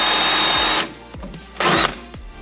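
A power drill with a worn bit whines at high speed in two bursts, one long and one short, with quieter gaps and faint metallic knocks between them, close and loud, no talking.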